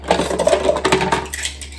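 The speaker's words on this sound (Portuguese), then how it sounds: "pôr na lava-louça" Dishes and pans clattering as they are loaded into a dishwasher, a quick cluster of ringing clinks and knocks that fades out within two seconds.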